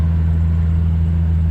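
A 1974 Jaguar XKE V-12 roadster idling, a loud, close, steady low hum with a smooth even drone and no change in pace over a brief stretch.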